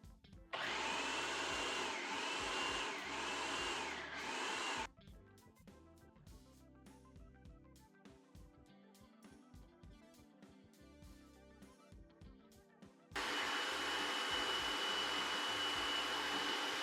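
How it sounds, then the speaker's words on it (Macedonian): A blender whirs loudly as it purées 180 grams of sun-dried tomatoes with half a litre of cooking or olive oil, running in a steady burst, pausing for a long stretch, then starting again. "Во сецко или во блендер ги ставаме сушените домати."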